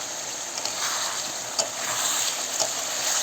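Food frying in oil with chili powder just added is stirred, giving a steady close sizzle punctuated by a few light scrapes and taps of the utensil against the pan.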